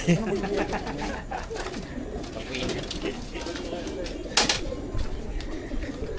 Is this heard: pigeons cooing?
yes